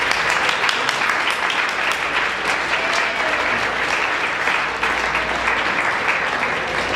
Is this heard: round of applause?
yes